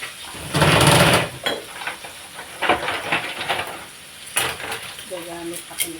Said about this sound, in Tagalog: Nagtatalamsik, guys. Nakakatakot.